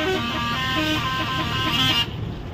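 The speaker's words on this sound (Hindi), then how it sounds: "बस कर भाई कितना हॉर्न बजाएगा रे तू" A loud, sustained truck horn blares continuously for about two seconds, then cuts off, leaving engine and road noise.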